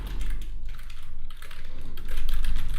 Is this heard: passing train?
no